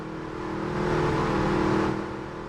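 Race car engine in the iRacing sim racing game, a whirring drone that swells into a rev and eases off again, steady and alone without talk.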